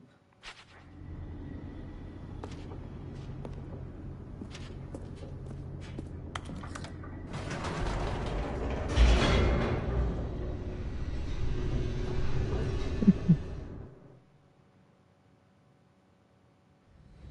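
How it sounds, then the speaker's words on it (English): A descending elevator in The Stanley Parable, a steady low mechanical rumble with rattling and whooshing that swells louder midway, then cuts off abruptly into near silence. "The elevator raced downward, plummeting towards an unknown fate"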